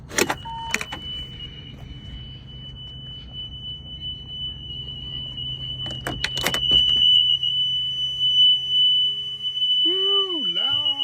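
Bell 407 helicopter systems power on: a steady electronic tone and hum come up, with clicks and switch pops, then rising warbling chirps near the end, heard close inside the cockpit.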